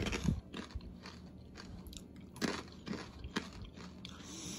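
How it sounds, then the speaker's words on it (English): Close, crisp crunching of ranch-flavored corn nuts being bitten and chewed, with several sharp bites and steady mastication in between. "we can go ahead and try out these corn nuts that are ranch flavored next."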